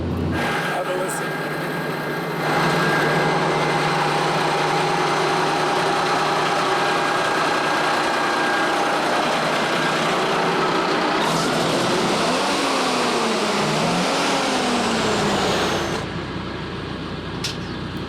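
A restored Kenworth K100 truck's engine runs close by, a steady loud diesel rumble that rises after a couple of seconds and holds before easing off near the end, with no talk over it.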